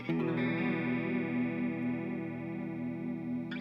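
A sustained electric guitar chord shimmers with a wavering chorus effect, ringing steadily and fairly loud with no voices.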